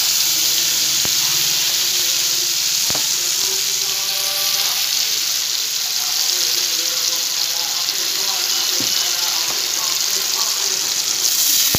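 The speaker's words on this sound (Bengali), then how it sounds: "জল দিয়ে দিলাম।" Water poured into a spice paste for a mustard-based jackfruit recipe, with a steady broadband rush and sizzle from the pan continuing throughout, with occasional soft clinks.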